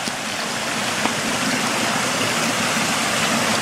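Continuous rushing of water through river rapids, a steady broadband roar that stays loud and even from start to finish with no voices.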